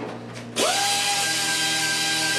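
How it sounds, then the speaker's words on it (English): A power sander whirs up sharply to a loud, steady high-pitched drone that holds without pause, close by, while finish sanding wood. "I use it more for the finish sanding"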